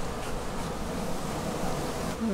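Dense mass of honeybees clustered at the bottom of a hive, giving a steady close buzzing drone with no talk.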